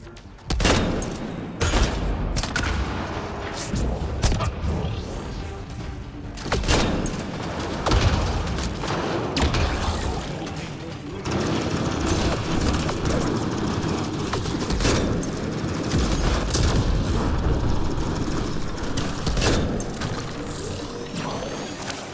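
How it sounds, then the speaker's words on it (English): A turret fires in the Mass Effect Andromeda video game: repeated sharp shots and bursts of gunfire, with clanking mechanical noises, continuing at a steady loudness throughout. "What is that? It's a turret."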